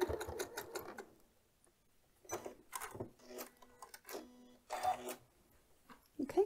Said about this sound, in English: and I'll just sew right off of the end.